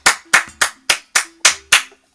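Seven sharp, evenly spaced hand claps ring out close and loud in quick succession, with a short pause at the end and no speech over them.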